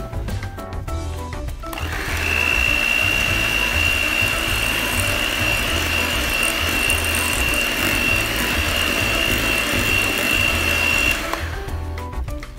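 An electric mixer beats cocoa powder into cookie batter, starting up with a steady, loud whirring hum and a high whine, running continuously for about nine seconds before cutting off.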